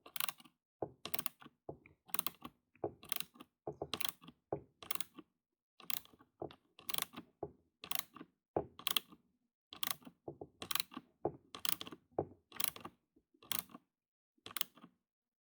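Screw driven into a screw hole in a plastic Automower robotic mower chassis, giving a steady series of sharp ratcheting clicks in regular bursts, close and clear with no talking.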